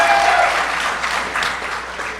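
A crowd at a community crime-prevention talk applauds the police commissioner in a short, dense burst of clapping that stays loud throughout.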